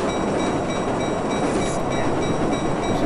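A train rolling on rails in the video game Marc Ecko's Getting Up: a loud, steady, close rumble of wheels and carriages with a faint high whine, continuous throughout and no speech.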